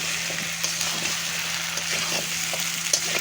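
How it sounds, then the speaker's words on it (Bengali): Chumri potatoes are sautéed with spices in a pan over steady, close frying sizzle, with light intermittent stirring taps and a couple of sharper clinks. "এবার দিয়ে দিচ্ছি চুমড়ি আলু দিয়ে এবার সুন্দর করে কষিয়ে নেবো"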